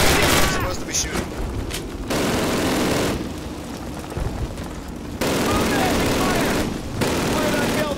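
Dense bursts of automatic and rifle gunfire in the Call of Duty World War II game, loud, close volleys in several long rattling stretches separated by short gaps, with someone talking intermittently.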